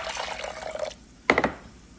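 Water splashes into a pot of moong dal, two cups to one cup of lentils, as a brief pour followed by a sharp splash and a few quick drips.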